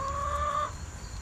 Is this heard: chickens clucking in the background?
yes